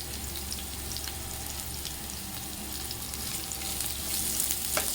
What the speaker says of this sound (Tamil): இப்போ இதை நல்லா போட்டு வதக்கிக்கலாம்.